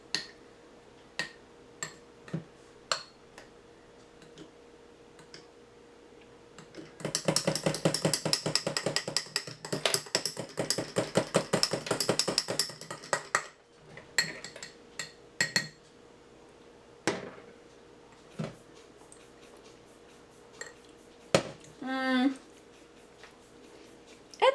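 Spoon clinking and scraping against a glass while dalgona coffee is stirred into milk, a dense run of rapid metallic clinks in the middle between scattered single taps, under quiet talk.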